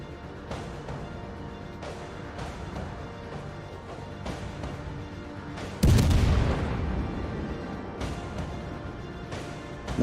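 Naval gunfire in the World of Warships video game, featuring a heavy boom from a ship's turrets that stands out over quieter game ambience and intermittent thuds.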